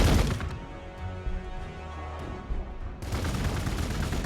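Sustained video game gunfire from squad units battling a tough enemy, a dense rattle of rapid shots at moderate level, thinning briefly in the middle before a louder, fuller burst of firing resumes to the end.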